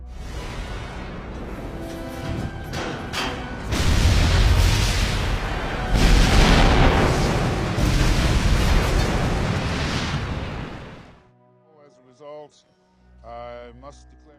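A loud, sustained roar of explosions and burning in a Marvel film scene, heavy booms rolling together before cutting out, followed by quiet speech.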